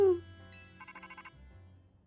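Phone ringtone in Pokémon Legends Z-A, a short burst of rapid electronic chirps following a sharp opening note, heard at moderate volume over low background game music.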